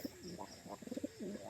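Pigeons kept for sale coo in a series of rolling, throaty calls, fairly close and moderately loud, repeating in short bursts with brief pauses between.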